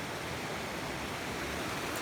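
A natural waterfall and creek flow in Kitty's Gorge, a steady broadband rush of falling water heard close and constant for the whole moment, with no other sounds.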